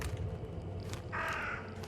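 Crows caw in the horror game The Sinking City, a few harsh calls over a low ambient background, with one longer, louder caw standing out near the end.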